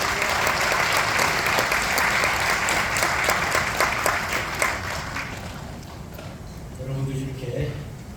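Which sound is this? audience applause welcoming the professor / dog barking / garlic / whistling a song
audience applause welcoming the professor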